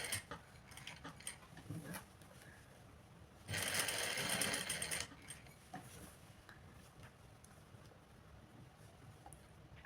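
A sewing machine runs in one steady burst of about a second and a half, stitching two pieces of fabric together for a collar top front opening. Quieter handling and rustling sounds come before and after it.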